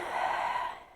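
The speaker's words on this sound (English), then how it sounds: "Breathe in" A single slow inhale during a yoga flow, held in a high crescent lunge, close and soft and fading at the end, with no talking.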